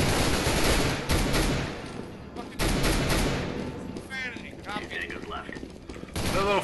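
CS:GO gunfire crackles in rapid bursts and volleys over a steady roar of game noise, fading briefly midway before resuming, with players talking over it.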